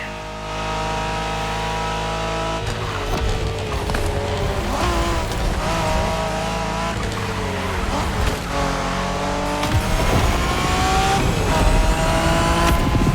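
Cars street racing in The Crew Motorfest, with Japanese street racing, engines roaring and revving loudly and continuously, gears shifting and a tire squeal as the vehicles accelerate past.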